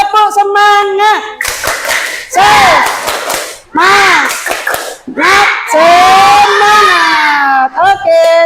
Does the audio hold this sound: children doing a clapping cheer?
yes